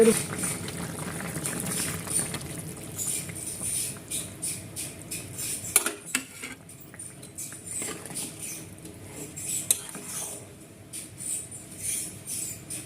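Bengali soybean curry simmers in a pot, with continuous soft bubbling and pattering liquid throughout. A few sharper clinks and stirs cut in now and then, close by.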